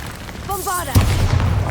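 A single Bombarda spell explosion in Hogwarts Legacy: a short rising magical whoosh followed by a sudden close, loud boom with a rumbling tail.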